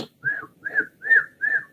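A person whistles through a closed mouth to imitate the wheeze of a narrowed airway, giving four short, rising whistled tones in a steady rhythm, close and clear with no talk.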